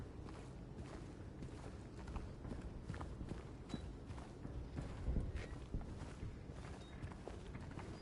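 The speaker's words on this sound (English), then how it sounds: "Pretty sure I just heard some footsteps." Footsteps in Silent Hill 2, a string of soft, steady treads over a low, murky ambient drone, faint and somewhat distant, with no voices.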